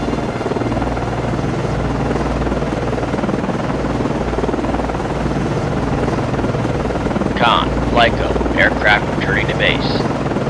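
A helicopter landing on a frigate in the naval game Cold Waters gives a loud, steady rotor and engine drone with wind rush. Near the end, brief chirpy radio-like voice sounds come in over the drone.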